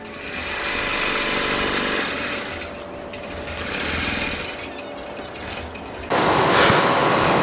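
A longarm quilting machine stitching an antique quilt runs with a fast mechanical chatter that rises and falls in speed, then surges louder near the end; no one talks.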